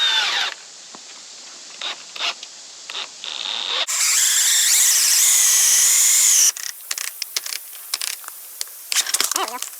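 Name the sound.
power drill drilling into kayak rack boards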